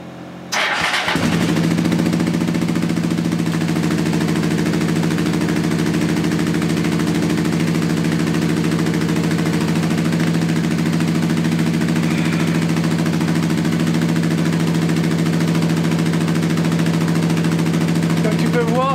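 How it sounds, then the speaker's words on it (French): A Honda Transalp motorcycle engine cranks and catches, then settles into a loud, steady idle that runs on evenly for a long stretch. "Et on allume la moto, on voit comment ça se passe"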